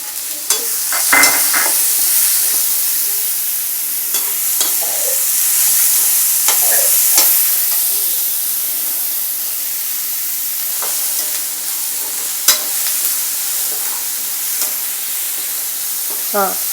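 Onion stir-frying in a pan for vegetable corn aval upma makes a continuous, close hiss and sizzle, broken now and then by sharp clicks of a spoon against the pan.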